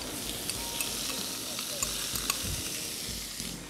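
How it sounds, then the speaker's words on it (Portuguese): Chopped bacon, about 100 grams, frying in a pan and rendering its fat, giving a steady close sizzle with occasional stirring clicks. "100 gramas de bacon picado. Que eu já vou colocar ali pra ir fritando junto, soltando a gordurinha"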